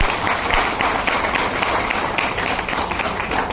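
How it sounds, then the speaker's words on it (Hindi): An audience at a session on aeroponic farming applauds the speaker, a dense and steady wash of clapping that holds at an even, fairly loud level throughout with no voices on top. "एक बार जोरदार तालियां होनी चाहिए सर के लिए, एक बार तालियां बजा दीजिए सर के लिए।"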